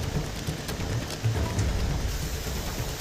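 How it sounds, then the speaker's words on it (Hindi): Heavy rain pours steadily in Dharchula, Pithoragarh, during monsoon downpours, a dense continuous hiss with a low rumbling undertone, close and uninterrupted without voices. "तो लगातार अलग अलग जगहों पर जोरदार बारिश हो रही है"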